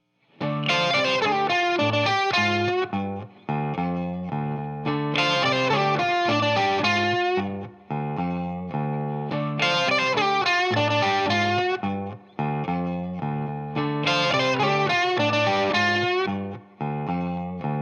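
Distorted electric guitar plays repeated bluesy blues-scale phrases of sustained two-note double stops high on the neck, with short pauses between, loud and alone.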